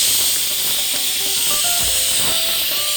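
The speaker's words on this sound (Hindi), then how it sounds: "कुकर सीटी मार रहा है" A pressure cooker cooking mutton curry lets off a loud, continuous hiss of escaping steam from its whistle, sustained and close throughout.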